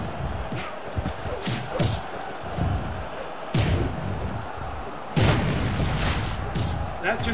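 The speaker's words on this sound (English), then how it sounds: "That just exploded." Explosion in the wrestling video game Wrestling Empire, a series of heavy booming thumps and slams, loud and close, with someone talking over the action.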